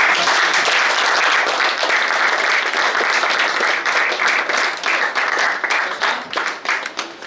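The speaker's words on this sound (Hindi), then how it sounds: "और आप लोग तालियां बजाएं।" Dense applause from a school audience at a Class X biology debate, loud and continuous at first, then thinning into scattered claps as it fades out.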